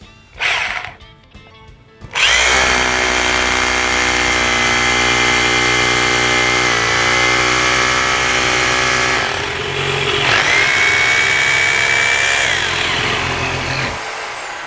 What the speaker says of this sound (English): You can cut that bolt and I'll drill into the concrete.